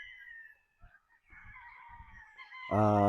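Battle stag gamefowl chickens crow and cluck at a moderate distance on a game farm, ending in a loud, close rooster crow; low thumps and faint background noise run underneath.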